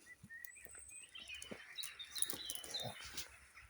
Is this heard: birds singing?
yes